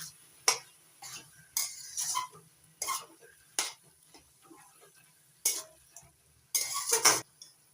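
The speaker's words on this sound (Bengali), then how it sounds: "এবার চিংড়ি মাছগুলো শাপলার সঙ্গে ভালো করে মিশিয়ে নিচ্ছি নাড়াচাড়া করে" Shrimp being stirred together with water lily stems in a pan, heard as scattered scraping and clinking strokes at an uneven rhythm, fairly close, with quiet gaps between and no speech.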